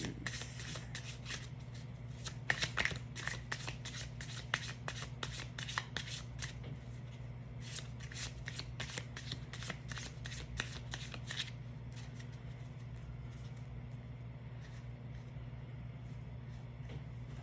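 Tarot cards are shuffled in a quick flurry of crisp flicks and riffles for about twelve seconds, then stop, over a steady low hum in the background; close, with no speech.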